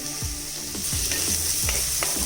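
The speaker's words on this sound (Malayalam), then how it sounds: "ഇതിലേക്ക് പച്ചമുളകും ഇഞ്ചി ഇട്ട് കൊടുക്കാം കുറച്ച് വേപ്പില" Green chilli, ginger and curry leaves fry in a pan with onion for a Kerala-style chicken stew, giving a steady close sizzle broken by several scraping stirs, with no voices.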